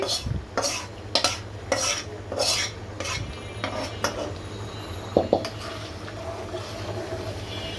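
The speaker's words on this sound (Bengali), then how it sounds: "এভাবে কমপ্লিট করে আমি এখন বাগারটা দিয়ে দিচ্ছি" Tempering is added to a thick lentil chorchori and stirred, producing a run of rhythmic spatula scrapes against the pot over a low sizzle and hum, followed by a couple of sharp metallic clinks.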